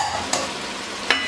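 Chicken vegetable rice being stirred in a sizzling pan, with two brief scraping strokes of the spoon over a steady close frying hiss.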